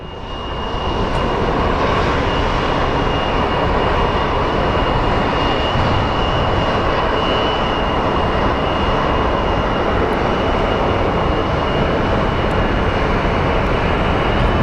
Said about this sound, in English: Look at that! F-16s!